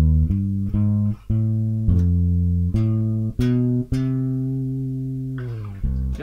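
Plucked bass guitar notes play a walking line in an Italian lesson on chromatic approach notes, with several sustained and clearly separated notes and no talking.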